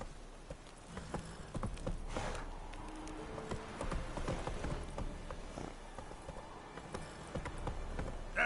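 Roach the horse galloping in The Witcher 3, rhythmic hoofbeats clopping steadily across the whole stretch at moderate loudness, with a few brief louder thumps and no speech.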